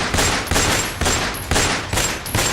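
Rapid bursts of automatic gunfire during a terrorist attack on passenger vehicles in the Ochat area of Kurram, Khyber Pakhtunkhwa, Pakistan, loud and close, with volleys repeating roughly every half second and no voices.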